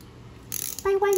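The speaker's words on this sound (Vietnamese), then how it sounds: "Đây là tiếng lưỡi gà của máy mọi người." A Japanese spinning fishing reel, a Shimano Ultegra or Daiwa KIX Freams, gives a quick burst of close mechanical clicks from its ratcheting clicker, followed by a few bright, sharp metallic ticks, alone and loud.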